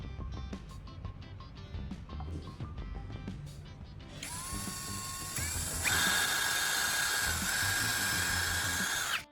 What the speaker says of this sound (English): Mark the drilling spot and drill a hole right there.